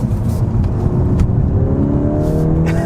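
A 2025 Volkswagen Golf R takes corners from inside the cabin, its engine holding a steady, loud drone with a rising whine as it accelerates, with no talking.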